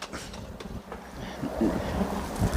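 Cold wind blows steadily across an outdoor garden during a hard freeze with snow flurries, a continuous rough rumble buffeting the microphone.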